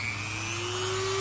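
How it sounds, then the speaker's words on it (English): A Dremel rotary tool hums steadily, its high-pitched motor whine rising slightly as it spins up, brief and close. "I'm going to turn the Dremel on"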